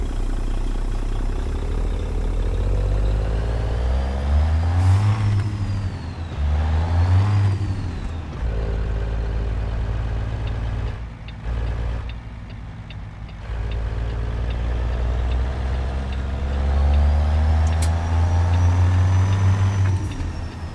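A heavy truck engine and exhaust in American Truck Simulator, running as an owner-operator rig in a convoy, with a steady loud diesel drone that revs up and down in several swells and a brief dip mid-way.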